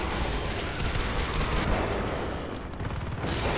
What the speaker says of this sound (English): I can already hear the turrets.